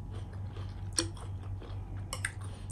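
Chewing on a spicy Thai fruit salad with a sweet-sour dressing, a couple of crisp, moist bites standing out over a steady low hum, close to the mic with no talking.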